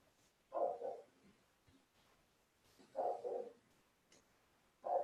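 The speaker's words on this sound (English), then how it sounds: "can you hear my dog?" Dog barking outdoors at a distance, three short muffled bursts spaced a couple of seconds apart over quiet background.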